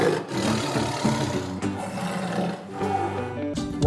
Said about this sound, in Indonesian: Wih, ada harimau Sumatera.